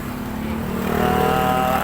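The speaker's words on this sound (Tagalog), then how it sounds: "Alog-alog yung makina" A Mitsubishi Fuso Fighter truck's 6M61 diesel engine, just started after a hard start, idles loudly with an uneven, shaking rumble and a steady droning tone building slightly over the short span.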